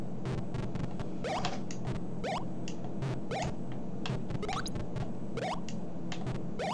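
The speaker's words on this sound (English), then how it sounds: "if you're hearing clicking sounds, that's me playing this game with an Xbox One controller" Quick plastic button clicks from an Xbox One controller during a Commander Keen Episode 1 game, tapping in irregular bursts with fast runs of presses, close and fairly quiet over a steady low background hum.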